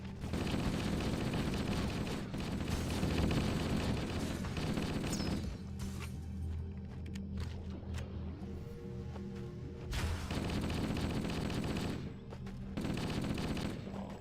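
Rapid gunfire from Halo CE gameplay, dense bursts of shots near and loud, easing into a quieter stretch mid-clip before the shooting resumes.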